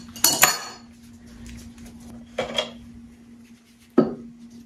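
A 19mm wrench clanks against the fork cap lock nut of a BMW R1200RS motorcycle, three sharp metallic clinks spaced apart, close and ringing, with a steady hum underneath.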